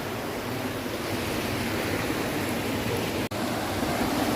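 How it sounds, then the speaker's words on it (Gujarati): A constant broadband rush of flowing water running toward the Hiran River near Sasan, steady and fairly loud, broken once by a brief dropout; no voices. "અત્યારે અહીંયાથી પાણી ભાઈ જાય છે આ સીધી હિરણ નદીમાં જાય"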